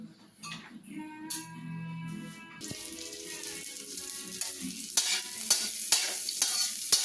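Ingredients are sautéed in a pan for Filipino pancit at home. After a quiet, tonal opening, a sizzle takes over, with sharp scraping and clattering stirs growing louder near the end.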